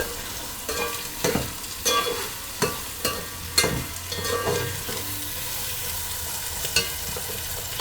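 Peas fry in a pan for mutar chawal, a bright sizzle broken by repeated spoon scrapes and clanks against the metal, close and fairly loud with no talking.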